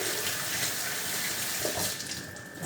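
Tap water runs steadily into a sink while celery is washed for a vegetable salad, a close, continuous splashing rush that eases slightly near the end.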